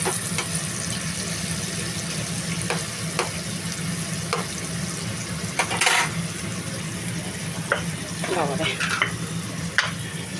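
Onions frying in oil in a home kitchen pan for a prawn curry, a steady close sizzle with occasional stirring scrapes throughout.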